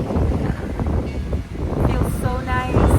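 Strong wind on the Amalfi Coast roars steadily into the microphone outdoors, a loud continuous rumble with gusty swells and no clear gaps.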